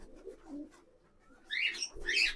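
Pigeons at a loft, giving a couple of short, bright calls near the end, with quieter low murmuring sounds before them.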